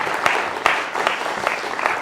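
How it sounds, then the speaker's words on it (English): An audience at a Lisp programming conference claps at the close of a talk, a dense, steady burst of many hands with a few sharper individual claps standing out. "let's please give a final round of applause to Anurag"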